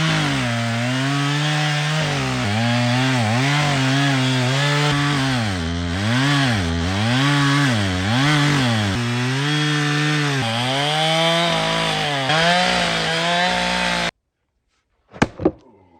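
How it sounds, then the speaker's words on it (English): A chainsaw runs loud and close for about fourteen seconds while cutting trees to clear a lot for a house pad, its pitch surging and dipping with the throttle. It cuts off abruptly and a couple of sharp knocks follow. "that is how you properly start a chainsaw"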